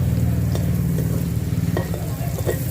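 Egg bread fries in a pan with a little butter, giving a loud, continuous close-up sizzle with a few light crackles throughout.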